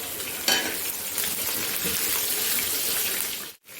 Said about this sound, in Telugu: ఇప్పుడు పచ్చిమిర్చి వేద్దాం